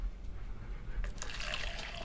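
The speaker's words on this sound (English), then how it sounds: "I think I'll pour me a cup of laxative." Laxative drink poured into a cup, a steady liquid stream splashing and filling for about a second after a quiet start, close and moderately loud with no talking.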